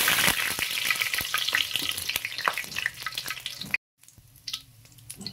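Dried red chillies and bay leaf sizzle in hot oil for a rabbit pepper roast, a dense close crackle with sharp pops that briefly cuts out, then returns softer and quieter.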